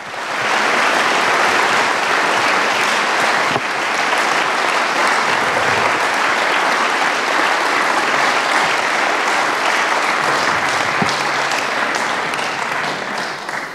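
Sustained, dense applause from a large audience at a symposium in the German Bundestag, steady and loud throughout with no voices rising above it.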